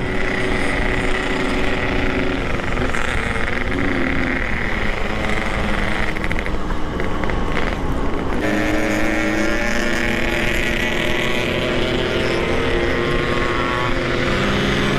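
Motorcycles on a relaxed group ride, engines droning and revving loudly at close range, rising and falling in pitch amid wind and road noise.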